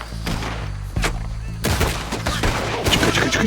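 Gunfire in Red Dead Redemption 2 crackles in a dense volley of sharp shots over a low rumbling bed, growing heavier and more chaotic toward the end, with no voices.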